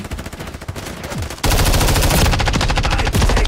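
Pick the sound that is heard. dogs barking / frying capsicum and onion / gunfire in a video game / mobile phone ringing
gunfire in a video game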